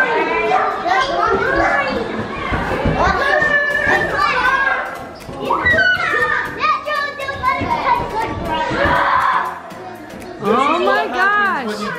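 Children shouting and playing loudly at a birthday party where two families have gathered, a continuous din of many young voices and excited chatter close by, with only brief dips in the noise.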